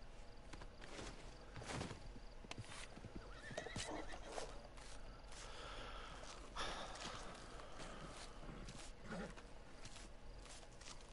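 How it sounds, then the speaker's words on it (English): A horse in a video game clip-clops along with steady hoofbeats and lets out whinnies and snorts, all fairly close and distinct, with no one speaking. "Is that the stolen horse or is it the one?"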